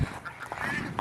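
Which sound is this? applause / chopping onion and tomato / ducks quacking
ducks quacking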